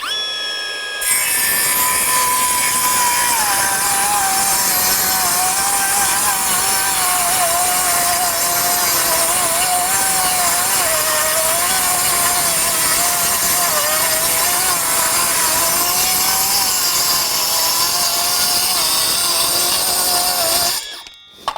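A Milwaukee M12 FUEL Gen II 5-3/8 inch cordless circular saw cutting through wood with its dust blower running, a loud, continuous high whine and rasp held for about twenty seconds, alone and close.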